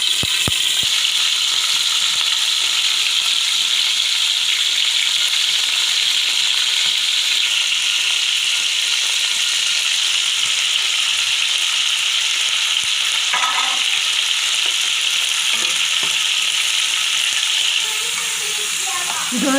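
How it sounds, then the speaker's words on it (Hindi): Chicken pieces frying in oil in a cooking pot, a steady loud hissing sizzle running throughout with faint clinks near the end. "कढ़ाई में मैंने ऑयल डाल दिया, सॉरी पतीली में, और मैं इसमें चिकन के पीसेस डाल दूँगी।"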